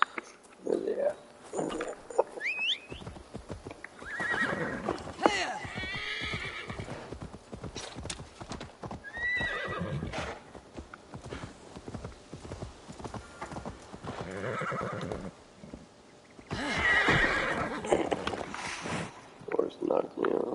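Hooves clip-clop repeatedly as a horse neighs several times in Assassin's Creed Valhalla, with intermittent talking and game-like sounds around it.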